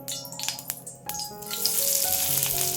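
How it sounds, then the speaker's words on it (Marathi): Onion sizzles and crackles in a hot kadai, with a few clinks of a utensil at the start before a steady frying hiss takes over. "इथे आपण आता कांदा भाजून घेऊया"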